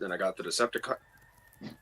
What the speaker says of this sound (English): Why do I hear a rooster in the background?